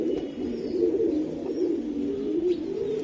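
A Benaras breed pigeon coos continuously in low, rolling throaty tones, close by and steady, with faint chirps in the background.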